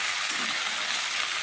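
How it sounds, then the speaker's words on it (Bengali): Vegetables seasoned with turmeric being stirred in a pan, a steady close sizzle with a soft scraping of the spoon running through the whole short stretch, no voices. "মিশিয়ে নিচ্ছি সবজিটাকে।"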